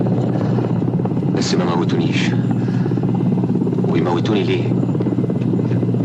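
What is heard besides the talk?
helicopter flying overhead, radio drama effect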